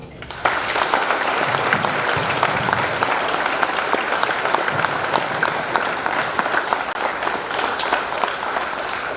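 Assembly crowd at a Veterans Day event applauds to welcome a Master Sergeant, steady hearty clapping that starts abruptly and continues evenly for nine seconds, with faint crowd murmur beneath.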